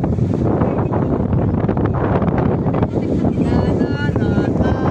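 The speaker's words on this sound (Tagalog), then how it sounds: "Mas malakas ang hangin." Strong wind buffets the microphone in a loud, steady roar that carries through the whole stretch, with faint voices underneath, at a riverside viewpoint.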